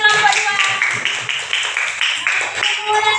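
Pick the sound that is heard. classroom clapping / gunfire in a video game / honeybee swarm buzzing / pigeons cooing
classroom clapping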